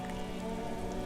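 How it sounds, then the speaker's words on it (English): Rain in the video game Disco Elysium, a soft, steady patter of drops on surfaces under a low tonal hum of game ambience, quiet and brief with no talking. "It started raining."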